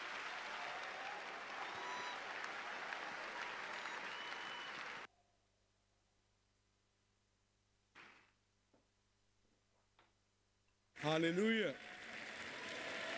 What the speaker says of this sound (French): Pour nous tous nous lever et applaudir pour Jésus